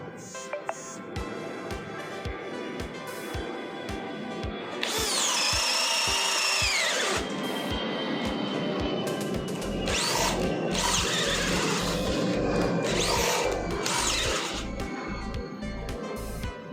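A Bosch 18V-EC cordless drill runs at speed setting 2, a close, steady motor whine with a brief louder high-pitched surge partway through, then continuing against a rhythmic background ticking.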